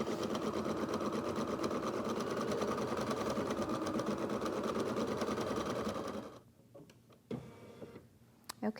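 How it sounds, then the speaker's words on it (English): An embroidery machine stitches a cutting line and decorative swirls on a fabric eyeglass case, giving a steady, fast mechanical chatter for about six seconds before it stops, followed by a few quiet handling knocks. "So this stitch is going to create your cutting line"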